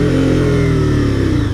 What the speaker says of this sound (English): That engine braking, though.